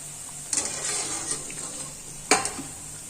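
Onion bhajiya frying in hot oil, a steady broadband sizzle with two sharper spitting bursts, close and moderately loud, with no voices.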